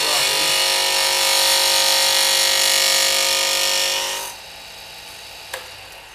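A lathe tool's bevel rubs against spinning wood on a woodturning lathe, a steady, loud, smooth hiss for about four seconds before dropping to a quiet motor hum with one small knock.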